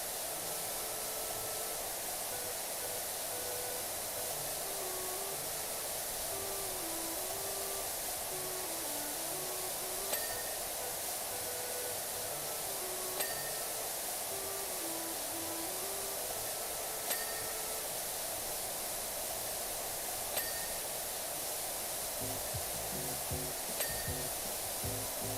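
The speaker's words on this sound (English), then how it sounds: "my new power washer that I bought is cutting through this grime" Steady hiss of a pressure washer spraying grime in PowerWash Simulator 2, a continuous broadband rush with faint tonal music underneath and small periodic clicks, no talk.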